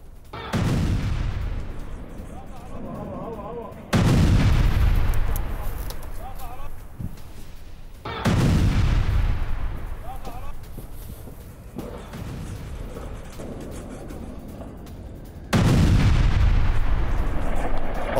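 Heavy booms from Israeli air strikes in Lebanon, four loud bursts spaced a few seconds apart, each with a long rumbling tail, heard at a distance with a broadcast voice-over running underneath.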